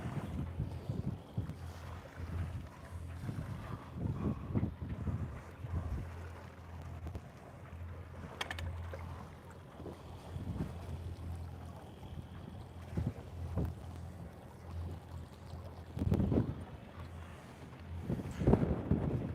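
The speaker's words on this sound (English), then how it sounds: "23 knots of wind, great." Steady, rushing gusts of strong wind, around 23 knots, buffet a Hanse 460 yacht under sail, with low rumbling wind noise over water throughout.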